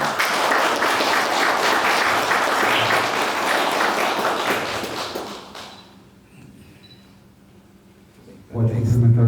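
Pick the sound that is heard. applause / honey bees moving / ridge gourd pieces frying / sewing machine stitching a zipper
applause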